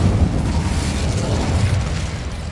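An Incendio fire spell in a Hogwarts video game gives a loud, sustained whooshing roar of flame, dense and continuous throughout without a break.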